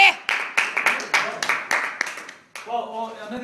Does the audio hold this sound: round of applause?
yes